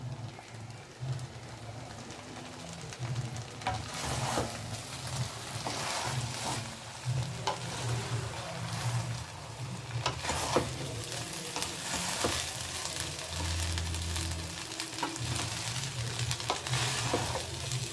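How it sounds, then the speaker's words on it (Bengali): Basanti polao rice being stirred with ghee in a pan over medium heat, giving a steady soft sizzle with scraping strokes of the spoon throughout. "এইভাবে ভালো করে নেড়ে মিশিয়ে নিতে হবে।"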